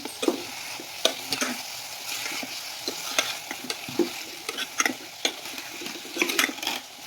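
Leafy greens palya being stirred in a pan, close crackling sizzle with frequent sharp clicks and scrapes as it is turned over, no talking.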